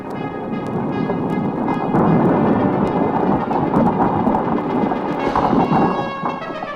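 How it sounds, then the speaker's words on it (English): A band of thieves' horses galloping off through the trees, rendered as a loud rolling thunder-like rumble with rain-like crackle, swelling and steady for several seconds. "All the band went off at a mighty gallop, making a noise like thunder."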